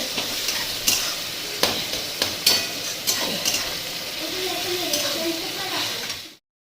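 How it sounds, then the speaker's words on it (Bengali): Onions fry in a pan with a continuous close sizzle. Sharp scraping stirs come every half-second or so, and faint voices can be heard in the background. "পেঁয়াজ ভাজা হচ্ছে"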